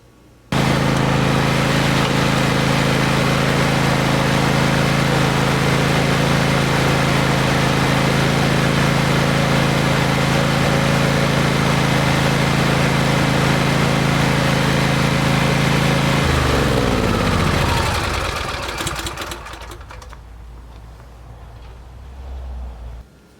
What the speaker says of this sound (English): I noticed earlier this year that this lawnmower has started to leak oil